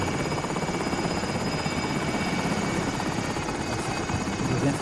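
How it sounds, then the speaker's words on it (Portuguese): In the Warzone video game, a helicopter drones steadily nearby with a dense rotor throb and engine whine, holding at a constant loud level throughout. "Ó, o helicóptero tá aqui, ó,"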